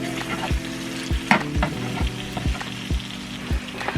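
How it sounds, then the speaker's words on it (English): Butter sizzles and crackles in a hot pan with browned bits for mushroom gravy, a steady close frying hiss broken by regular scraping strokes of a utensil. "you see how that butter is melting and picking up those brown bits in the bottom of the pan?"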